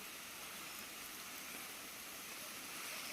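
A forest river flows steadily, a soft continuous rushing of water with no breaks, fairly faint and heard alone without talk.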